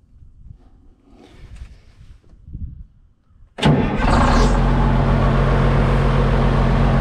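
An International Harvester TD20G bulldozer's diesel engine cranks and catches after a few seconds of low rumbling handling noise, then runs loud and steady at a rough idle close by.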